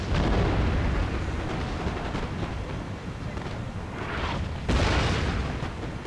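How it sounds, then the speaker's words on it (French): Artillery in the Napoleonic strategy game Napoleon: Total War booms and rumbles continuously, with overlapping low cannon blasts and a sharp new burst near the end, dense and heavy throughout. "Avec mon artillerie, je vais donc harceler ses troupes."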